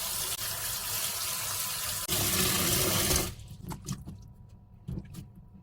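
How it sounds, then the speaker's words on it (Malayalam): Cold water pours steadily and fairly loudly from a tap over strained garlic for pickle, then stops, leaving soft kitchen clinks and handling sounds. "എന്നിട്ട് നമുക്ക് ഇതിനെ കുറച്ച് തണുത്ത വെള്ളം ഒഴിച്ചു കൊടുക്കാം"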